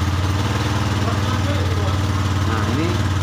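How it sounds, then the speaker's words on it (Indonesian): A Honda Beat ESP scooter engine idles close by, a steady loud putter with an even pulsing rhythm; the bike has a rough, misfiring running fault. "kemudian kami hidupkan motornya"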